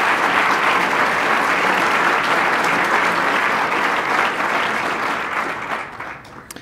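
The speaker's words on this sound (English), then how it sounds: "Let's give them all a round of applause." A large audience at a Colorado State University dinner claps enthusiastically, a dense, sustained wash of applause that gradually tapers off at the end.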